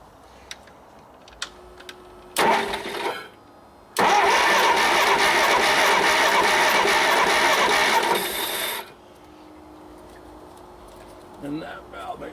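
An old engine with rusty cylinders cranks briefly, then fires and runs loud and rough for several seconds during a re-ring job before cutting out, with quiet shop ambience around it.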